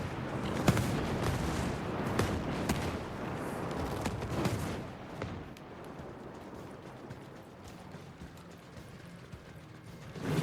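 Incoming mortar fire in the video game Ghost Recon Breakpoint comes as a dense, rumbling barrage of muffled blasts and thuds, loudest early on and easing to a steadier low roar.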